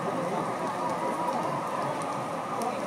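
The season's first rain falls steadily in Chihuahua, Mexico, making an even, continuous hiss of drops on surfaces that stays close and unbroken throughout.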